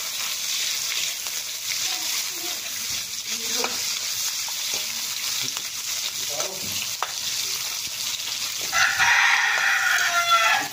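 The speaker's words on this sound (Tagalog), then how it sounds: "gisa na natin yung ating manok" Steady, loud sizzling of chicken sautéing in a pan, with occasional stirring scrapes and a brief burst of stronger hissing near the end.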